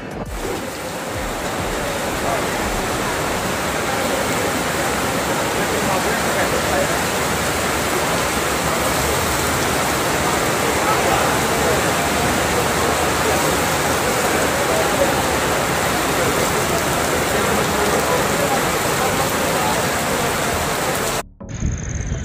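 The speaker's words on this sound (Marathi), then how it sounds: "बघूया, पाऊस सुरू झाला आहे." Rain pours during a 600 km long-distance randonneur bicycle ride, a dense, loud, unbroken roar of hiss and rumble lasting the whole stretch before it cuts off abruptly near the end.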